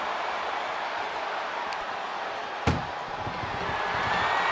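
A single sharp slam of an ambulance door being forced shut in the WWE 2K24 wrestling video game, ringing out once over a steady roar of arena crowd noise.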